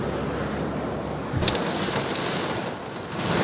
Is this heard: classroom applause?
no